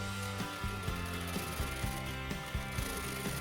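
Sewing machine stitching a pocket seam on fabric, a steady close mechanical whir with repeated rhythmic clicks and thumps of the needle mechanism running continuously throughout.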